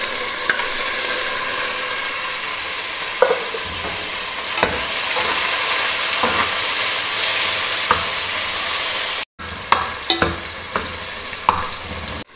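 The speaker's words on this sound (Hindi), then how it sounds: "तो फिर मैं इसमें टमाटर डालूँगी।" Chopped tomatoes frying in a pan while making chicken biryani, a steady loud sizzle with occasional stirring scrapes and clicks, close up, briefly cut off near the end, no voices.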